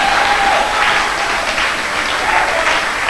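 A church congregation claps and cheers in acclaim of Jesus during a sermon, a loud, sustained burst of crowd applause that holds steady for a few seconds.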